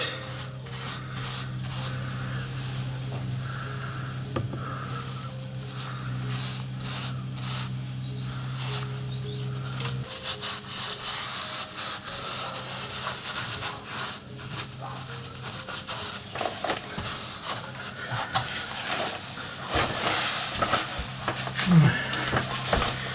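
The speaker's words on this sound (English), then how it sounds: "And then with the Timber Care product again, get that painted." Timber Care wood paint brushed onto wooden parts of a model railway farm scene, a close, steady rubbing and scratching of bristles in repeated strokes over a low background hum.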